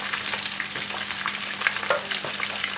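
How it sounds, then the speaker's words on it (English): Busy crackling and bubbling from a pot of pepper sauce boiling on the heat for Nigerian fried fish stew, a dense steady sizzle with frequent small pops throughout. "So my pepper is boiling."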